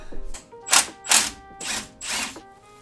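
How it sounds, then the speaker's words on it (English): A power tool works on the strut-to-knuckle bolt of a BMW X5 M50i, four short loud bursts of whirring and rattling with brief pauses between, close by and alone. "Now I'm gonna be removing this bolt right here that attaches the strut to the knuckle."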